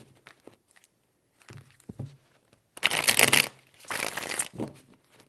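Tarot cards shuffled by hand in a few short riffling bursts, the longest and loudest near the end, separated by quiet pauses and soft handling noises.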